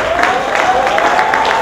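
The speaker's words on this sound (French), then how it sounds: "qu'il faut vraiment applaudir" An audience at a fashion show applauds, a soft, steady patter of many hands clapping for the whole stretch, fairly distant and with no voices over it.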